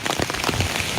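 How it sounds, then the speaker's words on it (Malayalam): Heavy rain pours down in Idukki, a dense, steady patter of drops on surfaces filling a short, close, continuous stretch. "ജില്ലയിൽ മഴ തുടരുകയാണ്."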